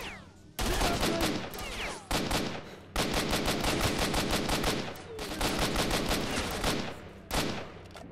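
Rapid automatic gunfire from S.T.A.L.K.E.R.: Shadow of Chornobyl, loud and close, in several sustained bursts split by short pauses.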